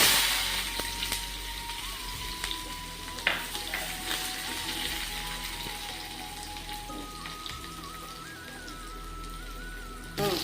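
Mustard seeds, cumin and onions frying in hot oil in a pan, a continuous crackling sizzle with scattered sharp pops and occasional utensil clinks, close and fairly steady throughout, no talking.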